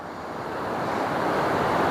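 Calm ocean surf at Ingwe Beach near the St Lucia Estuary, a steady broad wash of waves that swells slightly louder, mixed with wind buffeting the microphone.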